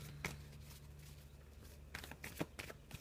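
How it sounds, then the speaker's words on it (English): Soft riffling and flicking of cards, a few crisp bursts of shuffling near the end, close by against a faint steady hum. "So I'm just having a little shuffle."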